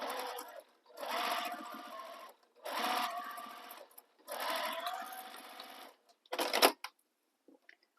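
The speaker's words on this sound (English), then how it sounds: "I'm just back stitching here where the center is" A home sewing machine back stitches across the centre of a sling bag fitted with a zipper foot, running in four steady bursts separated by short pauses, then one brief final burst. Close and clear, with no talking.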